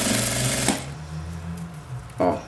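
A sewing machine stitching a zippered oral hygiene case, a close, rapid mechanical whirring run that stops abruptly, followed by a faint low hum and a short second burst of stitching.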